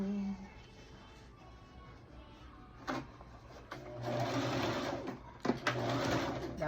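A sewing machine runs in short bursts while stitching the seam of a two-toned Dickies dress, faint and close, with pauses and brief handling noises between runs.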